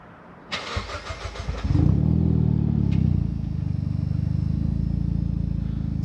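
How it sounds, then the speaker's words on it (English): A Mitsubishi Lancer Evo X cranks with a rapid clattering whir, then catches with a loud burst and settles into a steady, rumbling idle close by. "just start the car up, give it a little rev so you can see what it sounds like"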